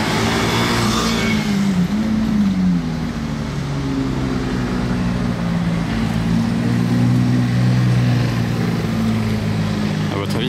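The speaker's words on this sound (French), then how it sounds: "Donc là elle part faire un tour voilà, pour voir si tout va bien" A Ferrari Daytona SP3 driving off on the streets of Monaco, a loud continuous engine drone with shifting pitch, close and steady throughout, with people talking underneath.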